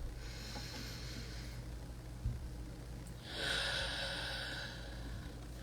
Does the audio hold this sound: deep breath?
yes